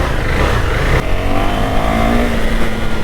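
A 2020 KTM Duke 390 motorcycle engine idles and revs steadily after warming up, a continuous close and loud mid-pitched drone with a small shift in tone about a second in.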